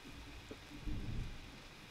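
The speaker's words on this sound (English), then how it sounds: "Is it raining?" Rain falls in the video game Warframe as a soft, steady hiss with a low rumbling swell partway through, fairly faint and continuous, with no one speaking.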